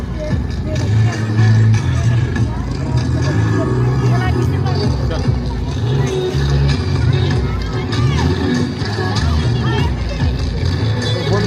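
Crowd hubbub at Eluru park in Andhra Pradesh: a continuous, loud wash of many voices chattering at once, with passing vehicles and shuffling mixed into the steady murmur throughout.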